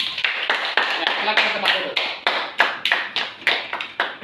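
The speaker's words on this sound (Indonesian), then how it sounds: "terima kasih kepada kelompok 3. Tepuk tangan untuk kelompok 3" A classroom of students claps for a group that has just presented, a series of sharp, rhythmic clap bursts repeating steadily while a teacher speaks over them.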